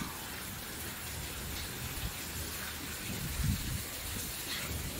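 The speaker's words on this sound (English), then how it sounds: "We can hear the sound of the rain." Heavy rain falls during a windy typhoon, a steady dense hiss of downpour with a few louder splashes and gusts, close and continuous throughout.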